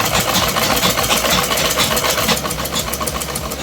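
A sewing machine stitches a kurta seam in a fast, even, rattling run of needle strokes, loud and close with no talking.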